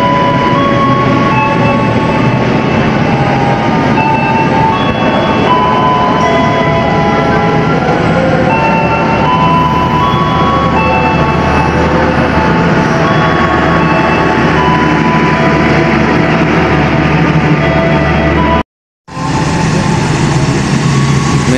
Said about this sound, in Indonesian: Melintas langsung kereta api Argo Parahyangan dari stasiun Gambir tujuan akhir stasiun Bandung